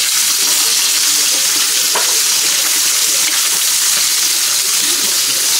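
Galunggong fish frying in a pan of hot oil: a steady, loud, close sizzle and crackle throughout, with a brief stirring or shifting sound near the middle and no talking.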